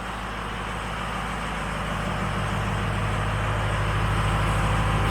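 A 2004 Ford F350 4x4 dually pickup on a cold start idles at the exhaust, a steady, loud, low diesel rumble with a constant even throb that holds level throughout.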